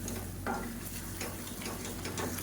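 Onion thokku is stirred in a pan while it cooks, a soft continuous scraping and sizzling with a few faint ticks, heard up close against a steady low hum, with no voices.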